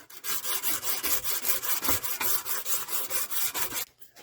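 Sandpaper is rubbed by hand over a part of a 1964 Mercury Comet that has sat for 23 years, in quick, rhythmic back-and-forth strokes, close and steady, then stopping abruptly.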